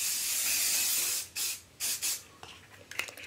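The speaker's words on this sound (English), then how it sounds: "I'm going to use the fudge hairspray." Fudge hairspray is sprayed in a long, close, steady hiss, followed by three short bursts and some faint fainter puffs toward the end, with no talking.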